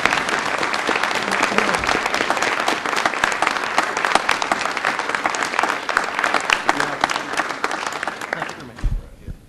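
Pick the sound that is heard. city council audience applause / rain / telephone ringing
city council audience applause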